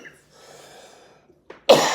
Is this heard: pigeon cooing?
no